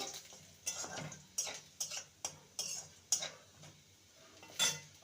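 Chopped garlic fries with whole cumin in a pan, stirred with a metal spoon that strikes the pan in several sharp clinks over a soft sizzle.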